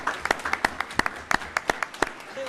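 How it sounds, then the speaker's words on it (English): A school board meeting audience gives a hearty round of applause, with dense, steady clapping from many hands throughout, close and lively, with a faint murmur underneath. "can we just give them a huge round of applause for that?"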